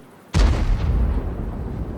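An artillery shell explodes in a video game tank battle with a sharp, heavy boom, followed by a long, rumbling low tail.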